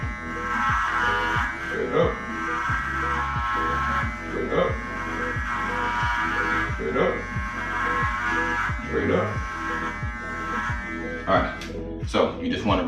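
Electric hair clippers shaving a head bald buzz with a steady close hum that pulses in a regular rhythm, running the whole time while someone talks over them.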